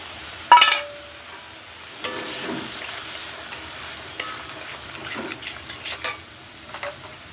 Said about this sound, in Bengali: বেশ কিছুক্ষণ নাড়াচাড়া করে নেব